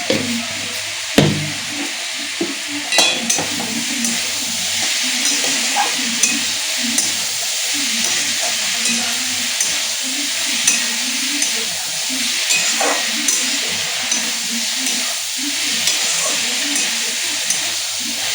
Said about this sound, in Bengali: ভালো করে ভাজা তো হয়ে গেছে